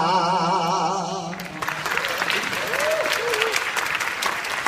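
University students in a lecture hall break into loud, sustained applause after a song ends, the clapping dense and steady for several seconds following the tail of the music.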